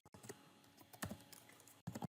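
Quick clattering keystrokes on a computer keyboard, a few short bursts with brief pauses, close and fairly quiet with no talking.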